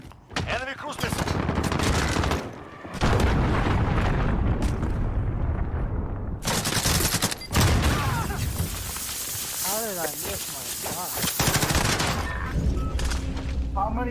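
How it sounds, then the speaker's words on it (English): Enemy cruise missile strikes and gunfire from Modern Warfare gameplay fill the air with loud, dense booms, rattling bursts and rumbling blasts, while voices talk over the din. "Enemy cruise missile."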